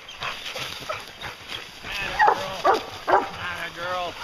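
Several bear-hunting hounds bark and bay nearby in short overlapping bursts, with a person talking over them throughout.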